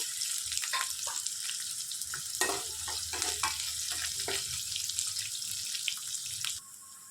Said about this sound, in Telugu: సన్నగా తరిగి పెట్టుకున్న ఉల్లిపాయలు వేసుకొని వేయించుకోవాలి